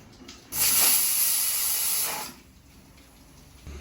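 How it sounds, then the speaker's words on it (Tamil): A steady hissing, bubbling rush of a pot of lentils coming to the boil, lasting under two seconds before easing to a quieter background simmer. "இப்போ பருப்பு கொஞ்சம் கொதிச்சு வந்துட்டு"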